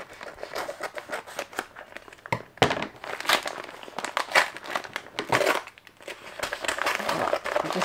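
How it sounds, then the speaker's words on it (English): A blade slices open a mailed package, giving faint crinkling and scraping of plastic or paper in short irregular bursts, close and quiet, with no talk. "Just going to cut this open without damaging the inside."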